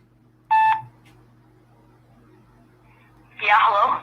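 Telephone dialing during a cold call, with one short clean beep tone up close followed after a pause by a longer, rougher burst of tones, over a low steady hum.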